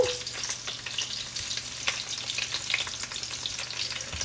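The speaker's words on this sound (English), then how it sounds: "So I've just got to turn the sausages again." Sausages sizzling steadily in a frying pan, a dense close crackle and spatter with a few clicks as they are turned, no voices over it.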